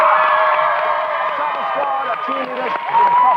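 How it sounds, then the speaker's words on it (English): Studio audience on a live Saturday-morning children's TV show applauding and cheering, a loud, steady crowd roar with high squeals and whoops layered over the clapping. "Give them a round of applause."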